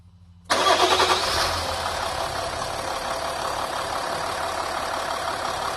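A 2012 Nissan Navara D40 engine cranks briefly and fires into a loud, steady idle that continues close to the microphone, with no talking.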